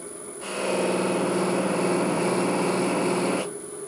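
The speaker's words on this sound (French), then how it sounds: "Je vais appliquer la cire dans la meule." A Beall buffing wheel spins up as carnauba paste wax is pressed onto it, giving a steady motor whine with a high tone that holds for about three seconds and then stops, close and fairly loud.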